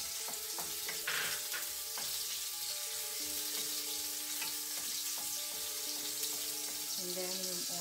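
Garlic frying in a pan for adobong takway, a constant bright sizzle and hiss with occasional soft utensil taps and faint tonal hum underneath; no talking.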